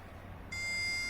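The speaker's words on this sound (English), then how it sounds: "I get the beeping noise to say it's going down" A Citroen C4 Grand Picasso sounds its suspension-lowering warning, a single sharp, sustained electronic tone that starts abruptly and holds steady over a faint low hum.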